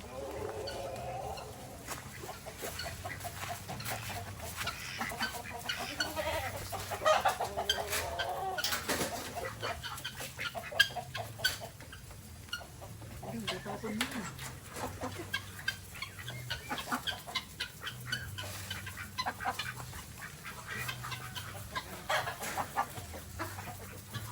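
Hens cluck and murmur steadily in a farmyard, close by, with a soft voice speaking intermittently over the busy background of birds.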